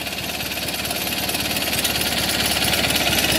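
A 20hp Kohler Magnum engine runs steadily on a Simplicity Sunstar garden tractor, a loud, continuous mid-pitched drone with a fast chugging pulse throughout, close up and alone with no voices.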